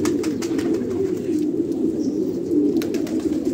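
Pigeons coo steadily and close by, Quetta fighter pigeons and young birds kept together in a Pakistani loft, their low throaty murmuring running unbroken under scattered faint chirps.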